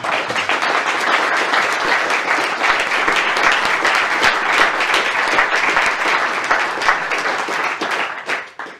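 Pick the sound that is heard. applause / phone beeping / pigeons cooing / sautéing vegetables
applause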